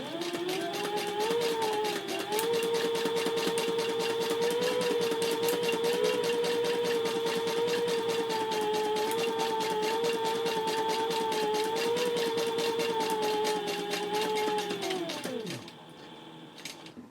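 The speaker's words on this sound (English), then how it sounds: "Now I'm just going to sew across this seam right here." A Sailrite Fabricator sewing machine stitches steadily across a seam in bag-making material, its fast, even motor hum and rapid needle rhythm running loud and close for about fifteen seconds before slowing to a stop.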